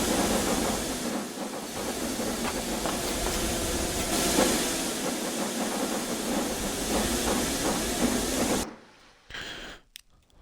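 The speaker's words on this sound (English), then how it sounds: "The London to Manchester train." A steam train in the video game Transport Fever runs with a loud, continuous hissing chuff and rolling rumble for several seconds, then cuts away abruptly to near quiet with a few faint scraps of sound.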